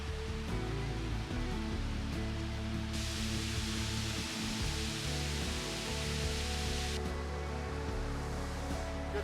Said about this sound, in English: The rain I was promised over the last week is dropping.